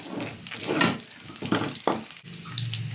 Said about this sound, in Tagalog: Ayan, pwede na natin igisa yung ating mga sangkap.